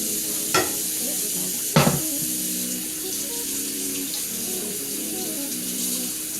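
Steady running cold tap water pours continuously over raw chicken being washed, with two brief louder splashes or knocks early on, close and without any talking.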